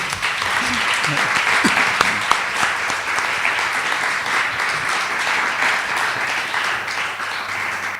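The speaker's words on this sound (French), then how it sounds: "Je pense qu'on peut applaudir." Steady audience applause in a lecture hall, a continuous dense patter of many hands clapping at even loudness throughout, with a few sharper claps and faint voices mixed in early on.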